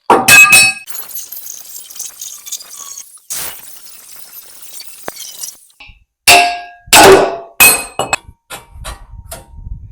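Sharp metallic clangs from a hammer striking steel while fabricating a gooseneck hitch ring out in irregular bursts, a few loud strikes with ringing tails separated by quieter gaps and faint scraping.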